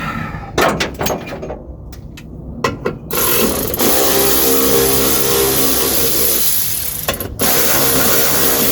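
A ratchet works on 10mm bolts holding a module on a car: clusters of quick clicks and knocks in the first seconds, then a loud, steady mechanical rush with one brief break.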